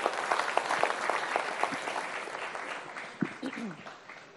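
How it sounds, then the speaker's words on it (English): An audience applauds at a Rising India interview with an actress: steady, moderately loud clapping that tapers toward the end, with some talking mixed in. "Please applaud louder."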